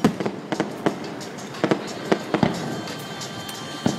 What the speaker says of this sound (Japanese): 花火が鳴ってます。